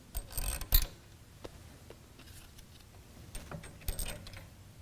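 Small metal washers clink and rattle as they are slipped onto carriage bolts on a grass groomer brush bracket, a few brief close taps and jingles over a quiet background.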